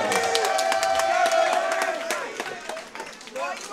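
A crowd at a Hub City Fight Night boxing event cheers and claps after a TKO win, with shouts and whoops rising over the clapping before it tapers off slightly.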